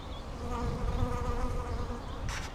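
Honeybees hum in a dense, steady buzz around an opened top bar hive during a split, close and continuous, with a brighter rustle near the end.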